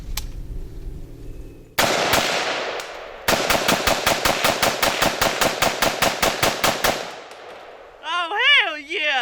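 Smith & Wesson M&P15 Sport II AR-15 rifle firing steel case ammo: a couple of isolated sharp cracks, then a long rapid string of roughly twenty loud close shots in steady rhythm, followed by a whooping voice.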